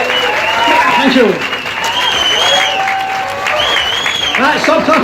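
Audience applause and cheering at a comedy set at the Green Man festival, 2018: a loud, dense wash of clapping that dips briefly and swells again, with voices and whoops mixed in throughout.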